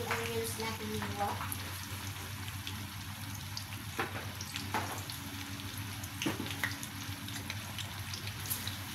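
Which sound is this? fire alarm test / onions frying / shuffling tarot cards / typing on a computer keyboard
onions frying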